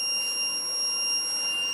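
An active buzzer module powered at 5 volts sounds a continuous, steady high-pitched electronic tone, loud and close, with no break across the short stretch and no speech.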